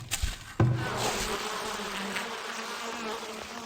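Bees buzzing around beehives in the game Farthest Frontier, a dense continuous insect drone holding steady and fairly loud after a couple of short knocks at the start.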